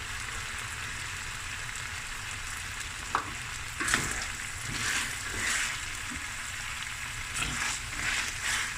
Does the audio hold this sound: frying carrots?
yes